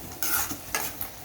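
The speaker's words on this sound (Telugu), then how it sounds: "చిత్రాన్నంలోకి పోపు పెట్టుకుంటున్నా" Tempering for lemon rice (chitrannam) sizzles in a pan, with quick bursts of frying crackle and stirring scrapes, close and loud, no voices.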